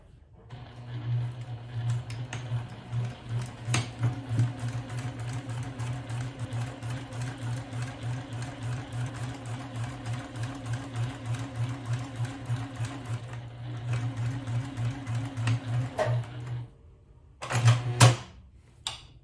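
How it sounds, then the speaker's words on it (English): A sewing machine stitches fabric for a purse, running steadily, its needle chattering in a fast even rhythm for a long stretch before stopping with a few clicks. "I'm here at the sewing machine, and I'm going to start to stitch"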